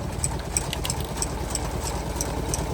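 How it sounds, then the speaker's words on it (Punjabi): An engine drives a sugarcane crusher on a farm making jaggery, running as a steady, close, rhythmic chugging drone with a rapid regular pulse and no voices. "ਕੰਮ ਹੁਣ ਇੰਜਨ ਨਾਲ ਕਰਤਾ ਸਟਾਰਟ ਕਿਉਂਕਿ ਲੈਡ ਚਲੀ ਗਈ ਆ"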